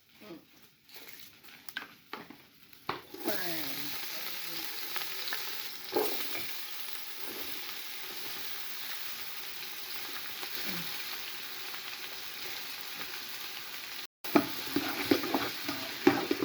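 Fennel seeds and dried curry leaves crackle and sizzle in hot oil for kottu roti, a steady close frying hiss with occasional stirring scrapes and brief pauses, growing denser after the first few seconds.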